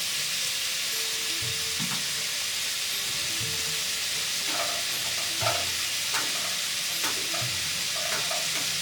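Tomatoes with a pinch of salt frying in a pan for jackfruit biryani, giving a soft continuous sizzle with scattered stirring scrapes and clinks throughout.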